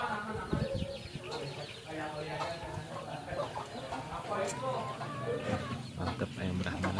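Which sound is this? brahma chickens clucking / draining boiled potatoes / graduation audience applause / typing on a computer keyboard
brahma chickens clucking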